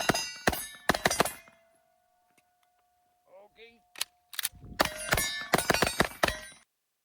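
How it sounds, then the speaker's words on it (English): A 1911 pistol is handled in a gaming setting: sharp, loud metallic clicks and clacks come in quick bursts, with a thin ringing tone and quieter rattles in between. "Look at this fucking reload!"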